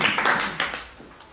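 Short burst of audience applause for Carolina at a lecture on the Quatre Barbus vocal quartet, a few scattered claps fading within a second or so.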